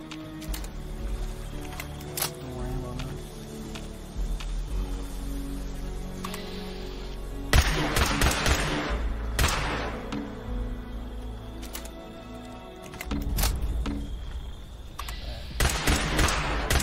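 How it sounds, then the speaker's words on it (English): A laser pistol fires in Fallout 76, loud repeated zapping shots in irregular bursts over a busy game soundscape of music and effects. "Now let's try the laser pistol."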